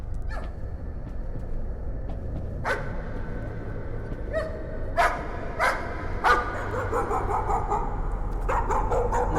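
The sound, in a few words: dog barking in the video game Layers of Fear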